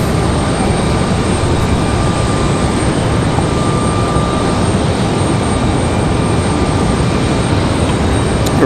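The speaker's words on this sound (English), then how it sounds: "So another Republic Airways, I believe. This one coming from New York as well." A Republic Airways jet arriving at Raleigh-Durham from New York produces a loud, constant broadband engine roar close by, unbroken for several seconds with no voices.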